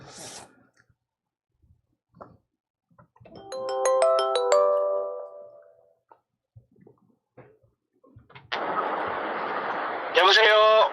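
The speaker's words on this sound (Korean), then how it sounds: "전화 연결 한번 해볼게요" A telephone ringing tone plays while a call is connecting: a clear tonal burst of repeated pulses rises from silence and fades, and brief noises around it lead into a busier stretch at the end.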